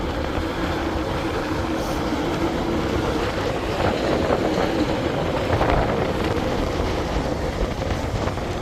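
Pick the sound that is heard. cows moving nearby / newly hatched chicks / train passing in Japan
train passing in Japan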